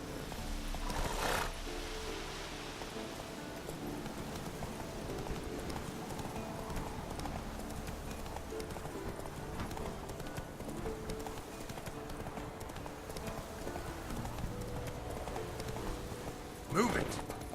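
Roach, the horse in The Witcher 3, gallops with a fast, continuous clip-clop of hooves, steady and moderately loud, with a short burst of other game sound near the end.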